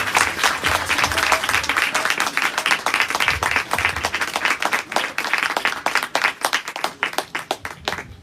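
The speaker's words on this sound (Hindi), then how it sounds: "होली स्पिरिट के लिए जोरदार तालियां बजाकर वेलकम करेंगे" Loud, dense applause from a church congregation welcoming the Holy Spirit before a sermon, steady and continuous throughout with clapping filling the room and no speech over it.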